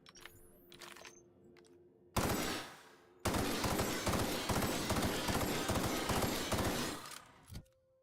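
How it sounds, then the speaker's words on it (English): Energy bullet gunfire in The Outer Worlds video game: a short burst, a pause, then a long sustained rapid-fire stream lasting several seconds before it cuts off, loud and close, with no talking. "Let's shoot light bullets."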